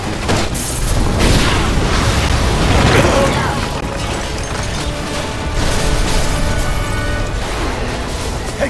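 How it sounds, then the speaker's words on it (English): Gas explosion in the video game Resident Evil 6, a loud sustained blast and rumbling debris lasting several seconds, with game chaos and voices mixed underneath. "shoot the gas! We can blow these things to kingdom come!"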